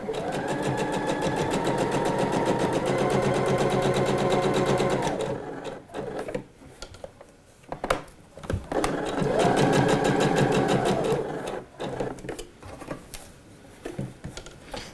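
Sewing machine running a straight seam at 2.5 mm stitch length on a Kitri dress, a steady loud stitching burst, a pause with small handling clicks, then a second long run of stitching.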